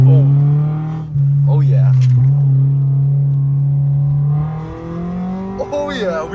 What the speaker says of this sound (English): The drone in this car is insane.